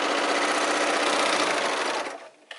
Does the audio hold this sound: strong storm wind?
no